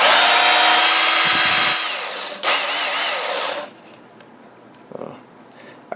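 A Work Sharp knife and tool sharpener, over seven years old, whirs loudly with a high grinding whine that drops off, restarts briefly, then stops, leaving quieter handling noises behind.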